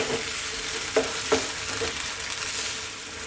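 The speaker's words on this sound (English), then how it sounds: "Let's give this a mix for about 2 minutes." A creamy chicken mac and cheese sauce with grated mozzarella and cheddar is stirred in a pan over lively heat, a steady close sizzle with a few soft scraping strokes of the spoon and no talking.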